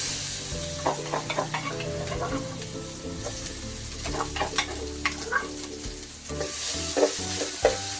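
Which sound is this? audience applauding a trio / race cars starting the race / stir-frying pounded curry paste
stir-frying pounded curry paste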